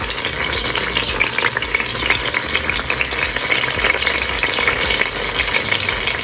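Lemongrass sizzles and crackles steadily in hot oil, a close, continuous frying hiss with light stirring throughout.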